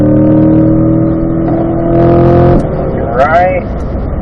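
Race car lapping the Ron Fellows circuit, its engine droning steadily and loud from inside the car, then dropping off as it brakes into a turn, with a voice speaking over it.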